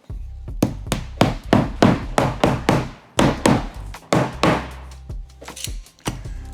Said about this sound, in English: I'm gonna go ahead and put the dowels in now